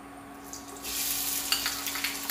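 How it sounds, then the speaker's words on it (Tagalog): Garlic and onion frying in about a cup of cooking oil for a congee topping, a sizzle that rises sharply after a quiet start, with small crackling pops and stirring. "Kasi kailangan nating maprito ang ating bawang at sibuyas na pang-topping natin doon sa lugaw"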